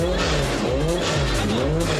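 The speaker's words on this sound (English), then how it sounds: "It's very, very noisy and it's very, very fast." Ford Transit Supervan racing engine roaring loud and steady at speed, a continuous high-revving drone with shifting pitch and a hint of tire squeal, close and unbroken throughout.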